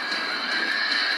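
A horse neighs in battle within the Rome Total War strategy video game, a sustained whinny heard over loud, dense game noise.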